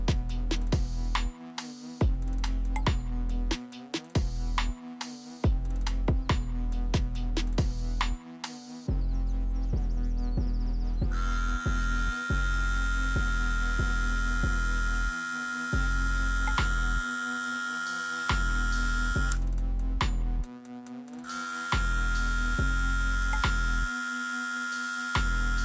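Lion King full-metal hair trimmer buzzes at a steady motor hum, repeatedly switching on and off. Sharp on-off clicks cut between the runs, and the sound stays continuous and close with no talk.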